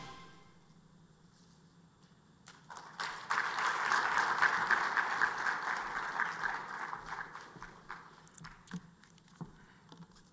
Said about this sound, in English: That was a very shallow round of applause